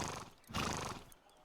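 Cartoon horse giving a short, close whinny, a single loud neigh in the middle of a brief clip with soft hoof sounds around it.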